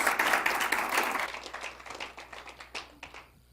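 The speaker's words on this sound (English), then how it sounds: "I'd like to give Paul a big round of applause" Applause from a conference audience at a weather and climate summit, dense clapping at first that thins out into a few scattered claps before fading to quiet.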